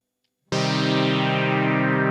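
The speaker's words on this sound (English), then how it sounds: "Just a simple chord with a falling filter." A self-recorded chord sample with a falling filter, played on an Elektron Tonverk, starts abruptly after a short silence and holds as a bright, rich, steady chord that slowly mellows as the top end drops away.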